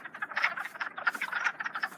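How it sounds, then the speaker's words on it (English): Wood frogs in a vernal pool give a dense, continuous chorus of croaks and clucks, many calls overlapping in a steady rapid pattern at moderate distance with no voices. "I'm calling them frogs, but after it I learned that they're really wood frogs"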